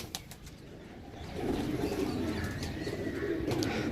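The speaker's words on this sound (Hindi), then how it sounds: "पहला कबूतर जनाब सही है" Racing pigeons at a loft near Sarai Alamgir, Gujrat, heard close and fairly soft, with a few brief coos and a burst of wing flapping over quiet background noise.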